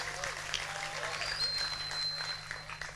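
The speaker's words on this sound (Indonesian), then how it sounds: "Tepuk tangan untuk beliau." A congregation at an Islamic majlis ta'lim and sholawat gathering claps together, a steady wash of applause lasting about three seconds over a low hum from the hall's sound system, with murmuring voices underneath.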